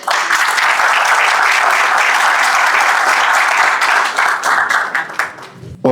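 An audience at a religious liberty summit in Santander, Colombia applauds loudly, sustained clapping from a large crowd that thins out near the end.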